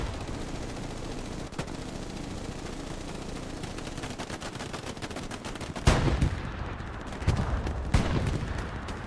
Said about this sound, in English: Tank getting hit by multiple rockets into the tracks.